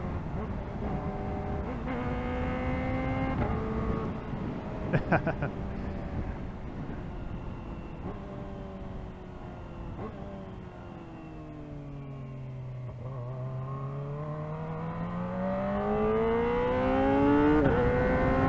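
A Kawasaki Ninja ZX-4RR motorcycle accelerates hard, its high-revving engine whine climbing through rising and falling pitch sweeps as gears change, fairly loud and continuous, with faint wind noise and no clear talk.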